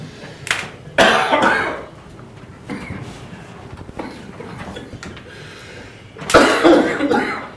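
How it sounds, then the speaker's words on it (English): Several harsh coughs break out one after another, close by, during a town selectmen's meeting, with short pauses and a heavier coughing fit near the end. "They've been coughing all night"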